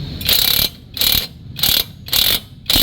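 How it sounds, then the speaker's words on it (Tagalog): A ratchet wrench tightens the caliper bracket bolts on a Yamaha Sniper 150/155 motorcycle, making five quick, close clicking bursts in a steady rhythm. "unahin natin yung bolts dito sa caliper bracket yan, ito yung kaunahang hinigpitan"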